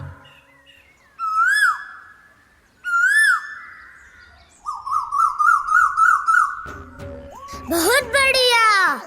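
A child whistles an imitation of a koel's call during a stage drama, several rising whistled notes repeated in phrases, followed by a fast trilling run and a burst of sweeping whistles at the end.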